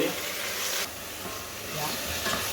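Fresh spinach seasoned with salt and pepper sizzles and crackles in a hot pan, with a steady frying hiss and light stirring noises.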